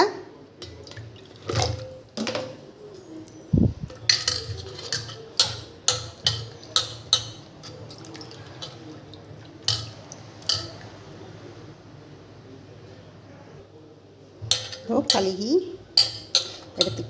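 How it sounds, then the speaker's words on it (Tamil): Baby mangoes being rinsed by hand in a vessel of water, with repeated small splashes, knocks and drips close by, arriving in uneven bursts with quiet gaps between them. "முதல்ல என்ன பண்ணுங்கள் மாவடுவை நல்லா கழுகிக்கோங்க"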